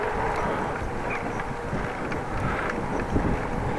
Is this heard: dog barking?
no